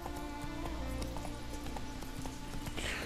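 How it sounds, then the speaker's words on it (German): Horse hooves clip-clop at a steady galloping rhythm in The Witcher 3, set against continuous game music and ambience, with no talking. "Komm, wir holen unser Pferdchen."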